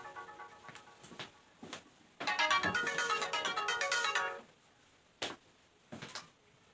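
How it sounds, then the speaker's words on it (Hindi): A mobile phone ringtone plays loudly for about two seconds during a math lesson, then stops, with a few short clicks and taps before and after. "बीच में फ़ोन आने लगा तो हम उसको देखने लगे।"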